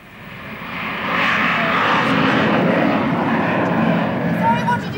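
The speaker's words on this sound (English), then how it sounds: "I said we seem to be on the flight path again today. I wonder who was in that plane." A propeller aeroplane passes overhead, its engine drone rising to a loud, sustained roar that holds steady, with voices faintly mixed in beneath it.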